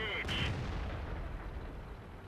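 Tank cannon fire in World of Tanks, a shot striking thick armour: a loud booming blast near the start with a short metallic ring, then a rumbling, noisy tail that fades slowly over a couple of seconds.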